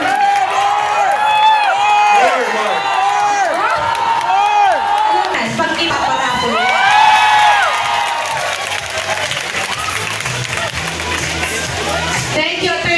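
Crowd applause and cheering with whoops at a year-end assessment event with the mayor, loud and sustained throughout, with voices mixed into the noise.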